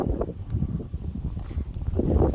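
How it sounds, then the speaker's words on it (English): Steady outdoor wind buffeting the microphone at Painted Canyon Overlook in Theodore Roosevelt National Park, a continuous low rumbling roar that swells slightly toward the end, with no voices. "put up with that wind"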